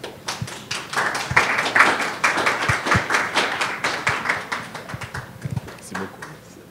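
A conference audience applauds with dense, steady clapping that carries on for several seconds, with a few heavier thumps mixed in.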